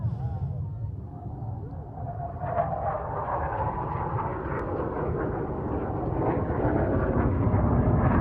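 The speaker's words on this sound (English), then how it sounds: "here we are, coming around the corner, ladies and gentlemen, the Saab 35 Draken" A Saab 35 Draken jet fighter roars past at an airshow with its reheat lit, a loud, sustained, rumbling blast that slowly builds in intensity. An announcer talks over the noise.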